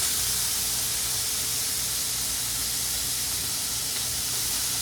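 Small peeled, deveined shrimp sizzling in hot olive oil in a pan, a loud, dense, continuous hissing fry up close that holds steady throughout, with no voices.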